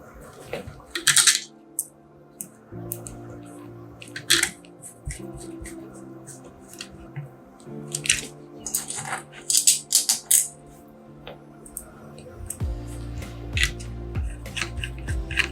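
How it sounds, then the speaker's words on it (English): Small Phillips head screws being driven back into a Game Boy Pocket shell during a screen replacement, heard as close, light metallic clicks and scratchy taps in irregular bursts with faint rattling, no talking. "Now we can put back the 3 Phillips head screws we took out."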